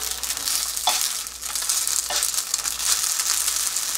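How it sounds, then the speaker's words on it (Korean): Flat dumplings, Daegu-style napjak mandu, fry in a pan with a steady close sizzle, broken by a couple of brief louder spatters as they are stirred or turned. "이렇게 해서 더 노릇하게 구우면 담백하고 고소한 만두입니다"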